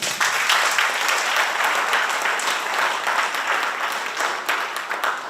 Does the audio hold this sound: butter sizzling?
no